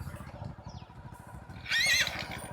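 A grey, dappled horse in a village street gives one loud, close whinny with a quavering pitch near the end. Before it comes a steady low rumble and murmur of background activity.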